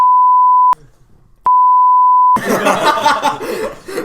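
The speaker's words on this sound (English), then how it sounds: "2 beeps right there" Two steady electronic beeps, each about a second long with a click between them, followed by people laughing.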